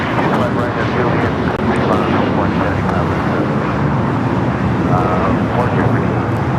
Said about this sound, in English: This is Air Canada Express 573 taking off to Vancouver on the CRJ 900 LR.